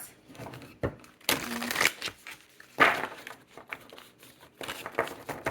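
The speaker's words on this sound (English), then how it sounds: "2 more shuffles." Large tarot cards shuffled by hand, giving a few short papery riffling bursts separated by quiet pauses, close and fairly soft.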